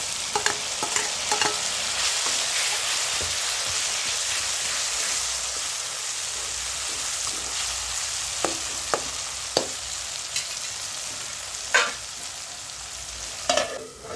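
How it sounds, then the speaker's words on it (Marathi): Chopped tomato hits hot oil already holding green chillies, garlic and curry leaves, giving a steady broad sizzle throughout with occasional louder pops and spatters toward the end; no one talks. "त्यानंतर चिरलेला टोमॅटो घालू"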